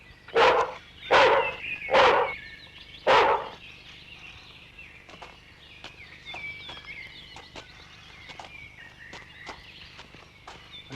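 A dog gives four loud, sharp barks in the first few seconds, then quieter scattered clicks and footstep-like taps follow with no further barking.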